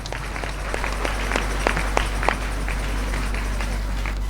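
A church congregation clapping, a steady patter of many hands at moderate distance over a low constant hum, without speech.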